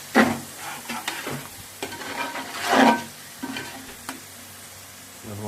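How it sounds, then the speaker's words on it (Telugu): Tamarind juice is poured into a pan of frying fish for Nellore fish curry, giving a soft sizzle and hiss with a few stirring scrapes and one louder swell of bubbling, close and alone. "చింతపండు పులుసు పోస్తున్నాను."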